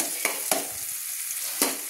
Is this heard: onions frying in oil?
yes